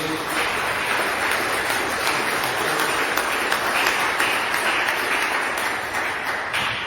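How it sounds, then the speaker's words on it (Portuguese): Loud, sustained applause from a large church congregation, steady clapping throughout with no pauses. "dêem uma salva de palmas bem grande para Jesus"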